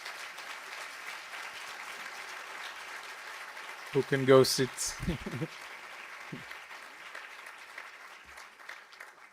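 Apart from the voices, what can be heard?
audience applause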